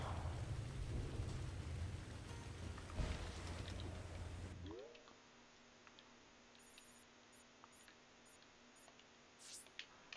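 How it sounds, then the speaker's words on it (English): Rain and thunder in the video game Sonic Frontiers: a heavy rumble of thunder over steady rainfall that suddenly drops to soft, quiet rain with faint ticking drops, no voices. "It's all dark and raining."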